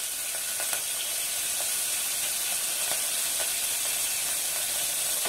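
Garlic and curry leaves fry in hot oil for a tomato chutney, making a steady, dense sizzle with faint clicks of stirring, close and uninterrupted.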